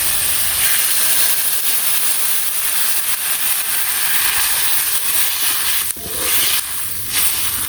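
Broth poured into a hot curry in a village kitchen, raising a loud, continuous steam hiss that briefly dips and surges near the end; close and alone, no talking.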